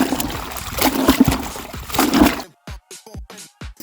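A wet bedsheet dunked into a bucket full of water, sloshing and splashing busily, then a few separate drips and small splats after it settles, close with no talk.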